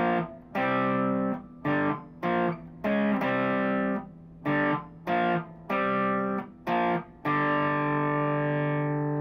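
Heavily distorted electric guitar plays a riff in loud, choppy bursts separated by short gaps, ending on a long ringing chord. No one talks.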